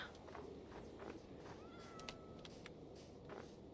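Several Minecraft cats meow in short separate calls scattered across the moment, one drawn-out mew in the middle, over quiet game ambience with faint footsteps and no talking.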